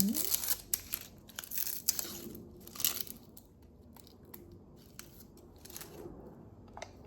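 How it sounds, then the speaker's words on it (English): Skin is peeled off cooked chicken for a sourdough chicken sandwich, with close, wet tearing and crinkling bursts that come in quick clusters then thin out, and a person talks softly throughout. "Peel the skin."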